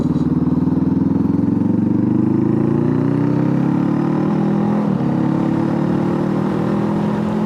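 Honda CB500F motorcycle being ridden with a quick shifter, its engine droning loud and close with steady revs and a brief dip as a gear change slips through, no one talking over it.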